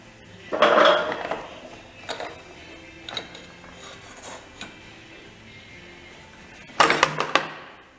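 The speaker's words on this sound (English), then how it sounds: "Oh, there goes my socket." A metal socket from a socket wrench drops and clatters while working on a Honda HT3813 lawn tractor's starter and timing belt, a sharp metallic burst near the start and another clattering crash near the end, with quieter small knocks between.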